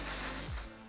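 Compressed air blasts cleaner out of a Microtech folding knife in a single short, sharp hiss up close, lasting about a quarter second before fading into quiet.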